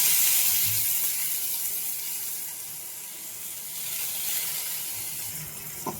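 Soaked five-lentil mix sizzles in a hot pan, a steady moderate hiss that rises and falls slightly, close by with no voices.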